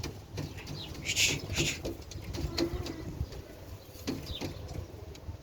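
Domestic pigeons close by in Baghdad with soft fluttering and scattered coos, several brief bursts over a quiet background.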